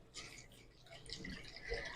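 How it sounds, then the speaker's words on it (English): Water trickles and splashes into a jar holding leftover sourdough starter, a soft, close, fairly quiet pour with small drips. "Put the water in my jar and then I'm stirring it up"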